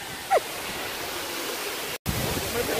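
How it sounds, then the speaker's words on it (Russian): Waterfall in Georgia roaring as a steady broadband rush of falling water, loud and continuous, with a brief cut near the end. "Мы приехали на водопад"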